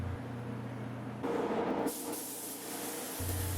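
SATA RP 3000 spray gun with a 1.3 tip laying clear coat on a car, a short burst of airy hiss that cuts in and out over a low steady hum.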